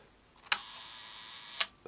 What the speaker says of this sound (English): 1 second, I've got to cock the shutter for that.